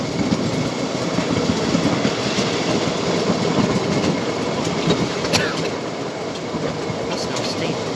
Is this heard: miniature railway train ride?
yes